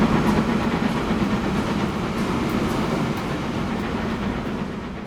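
A long train of about 300 yards rolls along the rails in the Transport Fever 2 video game, a steady, fairly loud rumble with rhythmic clickety-clack of wheels over rail joints, heard alone without talk.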